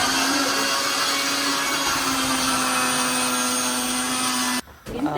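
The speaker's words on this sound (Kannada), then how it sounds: "ಮಿಕ್ಸಿಯ ಸೌಂಡ್ ಕಾರಣ ನಾನು ಸ್ವಲ್ಪ ಆಫ್ ಮಾಡಿದೆ." A kitchen mixer grinder runs with a loud, steady whine and whirring hum, then cuts off abruptly near the end, leaving a brief clatter and quiet.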